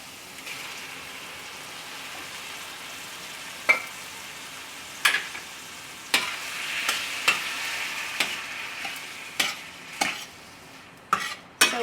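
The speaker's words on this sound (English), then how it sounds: "So we're going to just let that kind of cook some of the liquid out from the tomatoes" Ground meat with canned diced garlic tomatoes cooking in a pan, a steady low sizzle broken by scattered sharp clicks and scraping stirs, moderately close with no voices.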